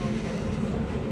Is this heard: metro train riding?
yes